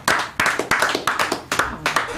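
Hands clap sharply about eight times at an uneven pace, each crisp smack close and loud with brief pauses between.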